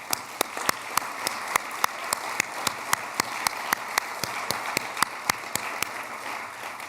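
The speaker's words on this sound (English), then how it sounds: "Let's give them all a round of applause." A university awards ceremony audience gives sustained applause for faculty award honorees, a steady wash of clapping with one sharp, regular clap standing out loudly near the front.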